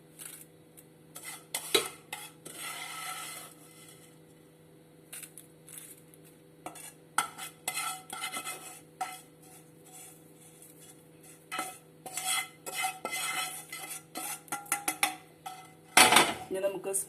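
A spoon works through a layered semiya (vermicelli) Arabic dessert in a dish, giving scattered clinks and scrapes against the dish, with quiet gaps between bursts and a louder knock near the end.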